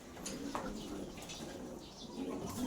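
Breeding pigeons in a loft cooing softly: low, rolling coos repeat over a faint background hum, quiet and fairly close, with no voices.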